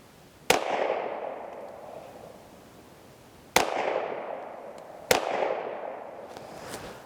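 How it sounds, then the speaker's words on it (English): A KelTec PMR30 pistol fires three sharp shots, the first alone and the last two closer together, each loud crack trailing into a decaying echo outdoors. "I'm going to throw another 3 shots."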